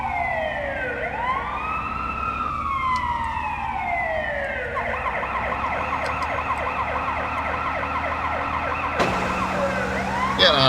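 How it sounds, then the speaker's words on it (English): Emergency vehicle sirens in the SimCity 4 Deluxe video game, sweeping wail cycles that shift into a rapid yelp pattern, loud and continuous with engine drone underneath and an abrupt change near the end. "you can turn on the sirens"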